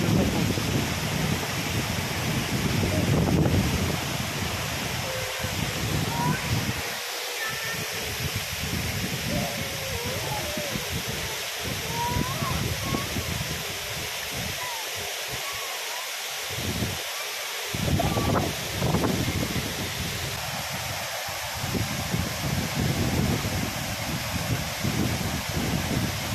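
Wind blowing steadily at a waterfall pool, a broad, continuous rushing hiss with buffeting microphone noise and falling water beneath, with occasional faint voices.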